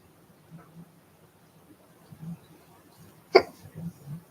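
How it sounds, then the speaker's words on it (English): A single short hiccup, faint and close, jumps out of quiet room tone partway through, with soft murmuring sounds around it. "Hiccups."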